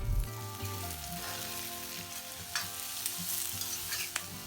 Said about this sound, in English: Saute till raw smell goes and then add the sliced onions.